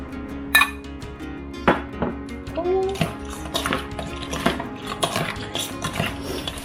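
Seasoned raw blue crab is tossed with plenty of sesame oil in a bowl, giving soft wet stirring and scattered clinks of utensils against the dish, with faint background voices.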